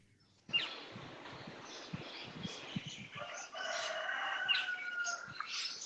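A rooster crows somewhere in the background, its call rising out of a quiet room tone and held drawn out amid other faint noises.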